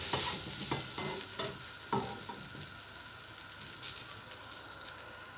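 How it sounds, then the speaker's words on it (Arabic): Mixed vegetables and lentils are stirred and sautéed in a pot for lentil soup, a close sizzle and frying hiss broken by the scrape and knock of a spoon, louder at first and then settling. "بعد ما كل الخضار مع العدس اتشوح اهو"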